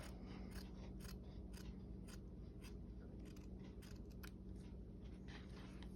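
Scissors cut fabric for a gnome coat with a series of crisp, close snips at an uneven pace. The cuts are quiet, over a faint steady hum.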